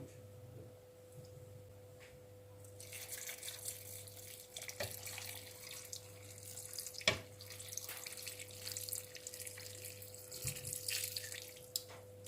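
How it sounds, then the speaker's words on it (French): Broth poured over cassoulet of Tarbais beans and sausage pieces in a baking dish, a faint, steady liquid splashing and trickling that rises after a quiet start, with occasional soft knocks, heard at a distance with a low hum beneath. "Et on va recouvrir de bouillon."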